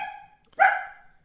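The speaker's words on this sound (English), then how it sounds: "so I apologize for the barking" A newly fostered dog barks indoors in a house, two short barks about half a second apart, the second louder and more ringing, fairly close with nothing else heard.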